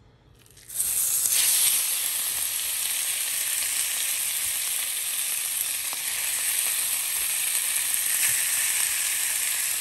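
Carne asada beef hitting a hot cooking surface, a sudden loud sizzle that starts abruptly and then holds as a steady, close, hissing frying sound with no talk.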